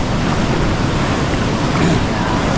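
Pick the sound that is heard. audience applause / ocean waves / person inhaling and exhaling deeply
ocean waves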